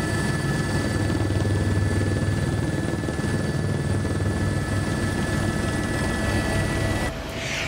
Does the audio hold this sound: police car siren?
no